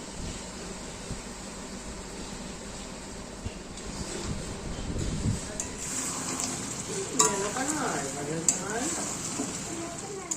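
Country chicken meat fries in a pot, a steady sizzle with stirring scrapes, while a voice talks over it in the latter half.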